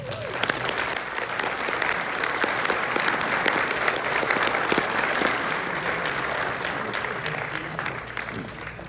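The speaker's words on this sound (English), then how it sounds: "I would like you to give Claire a round of applause." Crowd applause at an antique car club awards ceremony, steady clapping for nearly nine seconds with faint voices and cheers mixed in.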